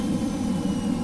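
Hawk T1 jet engine in a flight simulator, spooled down to idle on a landing approach, a steady droning whine with a low rumble, continuous and even.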